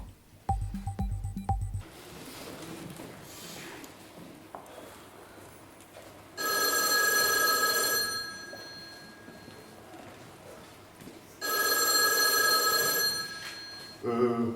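A telephone bell on a theatre stage during a heist comedy play rings in two loud, sustained bursts separated by a quiet pause, following a brief burst of other sound at the start.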